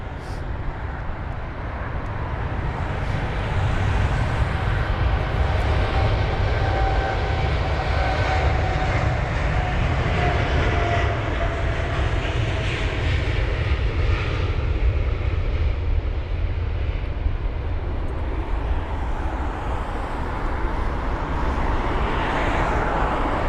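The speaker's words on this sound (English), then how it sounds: "the Saudi jet is actually on the runway" A Saudi Boeing 787-10 Dreamliner in special livery rolls on the runway at London Heathrow, giving a steady, loud jet engine roar with broadband rumble that holds for the whole stretch, no voices over it.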